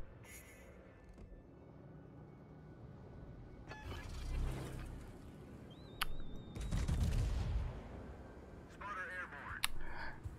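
Battleship guns of the Italian Lepanto fire in World of Warships, two heavy muffled salvos booming a few seconds apart amid quiet mechanical ship noise, with a voice talking in between.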